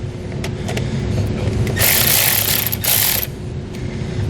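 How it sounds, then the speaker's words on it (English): A 10mm socket wrench ratchets to loosen a nut on a 2019 vehicle, giving a close, rapid metallic clicking run of about a second and a half over steady background hum. "Take a 10mm socket. We're going to loosen this nut."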